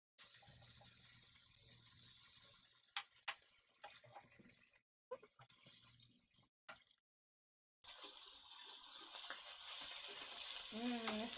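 Ground beef frying in oil in a pan with a steady broadband sizzle, interrupted by a few brief gaps and clatters of stirring, then resuming strongly.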